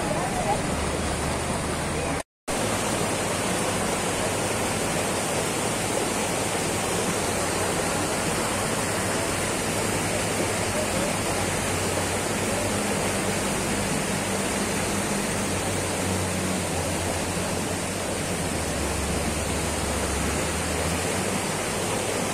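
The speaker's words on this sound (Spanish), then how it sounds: "Si es que el río sigue incrementándose en las aguas, podría ser un peligro permanente." The flooding Shasal river at Acopalca roars as a loud, continuous broadband rush of water, broken only by a brief dropout early on.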